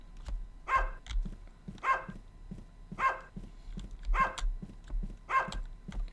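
Dog barking in the horror video game Bark, five loud evenly spaced barks about once a second over a low background hum, with no talk.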